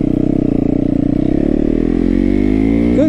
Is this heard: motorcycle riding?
yes